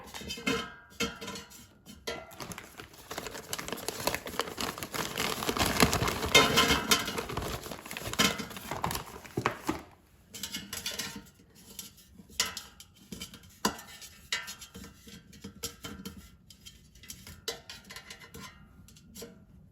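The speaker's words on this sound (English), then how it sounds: "So just put as many as you'd like to cook in the air fryer." Frozen pancake bites are dropped into an air fryer basket, producing a run of light clattering and tapping knocks, busier in the first half and then sparser, close and fairly quiet.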